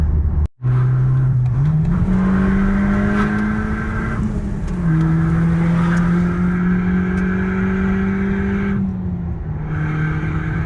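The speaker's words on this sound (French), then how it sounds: "Le 0 à 100 peut s'effectuer en deuxième, même si le moteur commence à s'essouffler au-dessus de 6002." An Audi TT 1.8 TFSI coupé engine accelerating hard, its steady drone rising in pitch through the revs, dropping at a gear change, then climbing again, heard loud from inside the car.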